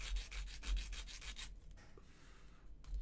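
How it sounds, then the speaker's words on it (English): An abrasive block files a 3D-printed resin guitar bridge in quick, rhythmic scraping strokes, close and fairly soft, then slows to a few lighter rasps after about a second and a half. "File it down a little bit."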